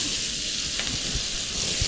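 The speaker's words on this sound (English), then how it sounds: "And you can get that nice sizzle" Chicken pieces sizzle loudly in a hot pan with cumin for zeera chilli chicken, a steady close hiss and crackle with faint stirring clicks and no talking.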